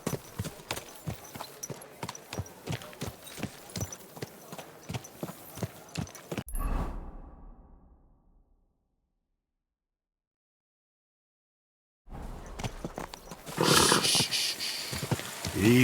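Horse hooves clip-clop in a steady, even rhythm in the medieval game Kingdom Come Deliverance 2, then fall silent for several seconds before louder, busier sound resumes.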